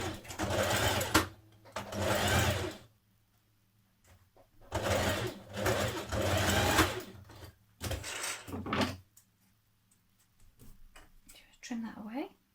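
A domestic sewing machine stitching down trouser fly seams on lounge trousers, running in three or four bursts of rapid whirring with short silent gaps between, close and clear, ending with a brief soft handling noise.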